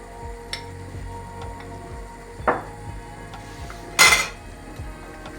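Soft sizzling of a flour roux in a pan with a few scrapes and clinks of a utensil against metal as it is stirred, close and moderately quiet.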